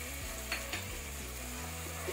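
Salt, chilli powder and turmeric are stirred into ginger-garlic paste in a pan, a soft sizzle beneath a couple of clear scraping spoon strokes; quiet and close, with no talking.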